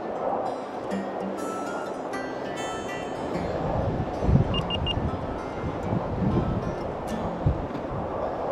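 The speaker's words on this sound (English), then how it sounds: "The wind is whipping" Wind whipping over a snowy Catskills summit on Balsam Lake Mountain at about 20 degrees, a continuous roaring gust against the microphone with faint rustling and a few small clicks.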